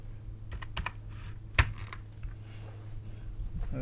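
Computer keyboard typing a web address into a browser, several quick soft key clicks with one sharper louder tap in the middle, close and fairly quiet over a faint background hum.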